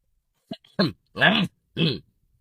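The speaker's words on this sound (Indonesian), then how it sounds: "Aku mau batuk dulu" A few short throat-clearing coughs close by, four bursts within about a second and a half, then quiet.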